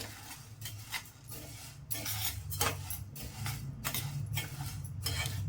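Urad and chana dal frying in a pan on medium flame for palak dal, with a low sizzle under frequent sharp metallic scrapes and clinks of a spoon stirring the lentils in an uneven rhythm.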